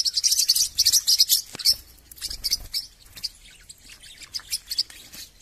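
Two male Pacific parrotlets (Forpus coelestes) fight, sending out rapid, harsh, high chirps and squabbling calls in dense bursts, loud and close, which thin into scattered sharper chirps toward the end.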